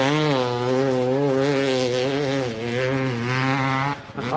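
A motocross bike at a local dirt track, its engine buzzing loud and steady at high revs with a slight pitch dip as it rides past, then dropping off sharply at the end.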